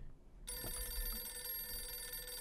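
A telephone bell rings loudly after a brief near-silent moment, a steady electronic trill held for about two seconds with no voices over it.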